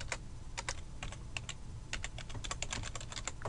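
Quick, light keystrokes tap on a computer keyboard while code is entered in a web editor, an uneven run of close clicks over a quiet room hum.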